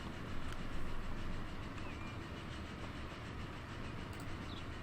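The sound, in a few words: steam train passing in video game Transport Fever 2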